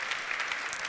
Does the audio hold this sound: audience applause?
yes